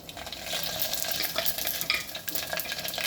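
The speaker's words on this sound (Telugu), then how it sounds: "పోపు పెట్టుకుందాం. జీలకర్ర, ఆవాలు," Cumin and mustard seeds sizzling in hot oil for a cucumber dal tempering, a steady crackling sizzle with small pops and stirring, moderately quiet and close, no talking.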